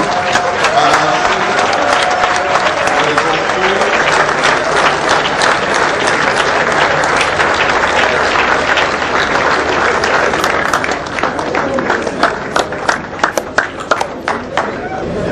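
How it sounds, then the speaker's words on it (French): An assembly rises to its feet in loud, sustained applause and cheering to acclaim an agreement adopted between rival political camps, dense clapping with crowd voices throughout, thinning slightly near the end. "l'Assemblée unanime se met debout pour acclamer cet accord"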